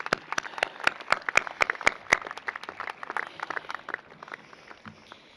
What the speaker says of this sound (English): May I ask the class of 2019 to join me in applauding all these people who have helped you